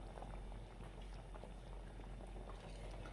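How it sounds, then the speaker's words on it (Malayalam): Fish curry made without ground coconut boils in a pot, a quiet, continuous, close bubbling and popping with no voices. "അപ്പോഴിതാ മീനെല്ലാം ഇട്ട് കൊടുത്തതിന് ശേഷം നന്നായി തിളച്ച് വന്നിട്ടുണ്ട്"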